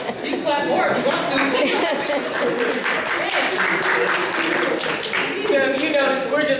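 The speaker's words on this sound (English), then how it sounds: "You can clap more if you want" Clapping from a poetry-reading audience in a fine arts gallery fills the room, close and busy with distinct individual hand claps, a few voices chattering beneath.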